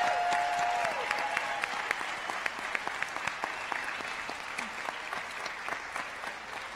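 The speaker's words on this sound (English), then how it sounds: "Let's have one last large round of applause for this year's inductees." An audience at a student honor society induction ceremony claps for the new inductees, a sustained, fairly dense round of applause heard from within the room that gradually thins out.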